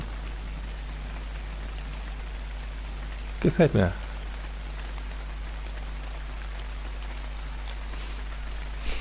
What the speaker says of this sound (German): Das riecht so schön nach Wasser hier, wenn der Regen fällt.